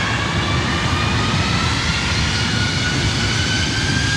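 A 33-year-old Boeing 767-300ER jet takes off at LAX with a loud, constant engine roar and a faint high whine running through it, filling all four seconds without pause.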